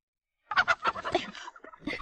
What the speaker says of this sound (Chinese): 大公鸡拍拍翅膀，施施然落在旁边的柴火堆上